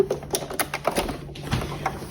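A sewing machine stitches a zipper bag, giving a close, rapid run of clattering ticks and taps with an uneven mechanical rhythm and no talk.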